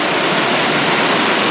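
Steady broadband roar of a waterfall at Tokopah Falls in Sequoia National Park, a continuous rushing wash of falling water with no break or other sound over it.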